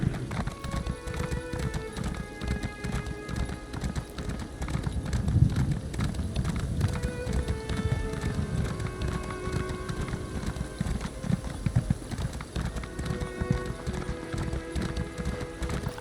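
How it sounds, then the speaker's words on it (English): Horse hooves clip-clop at a steady gallop while riding in The Elder Scrolls Online, a continuous rhythmic patter over game ambience and music, with brief speech mixed in. "I've changed back to this horse now."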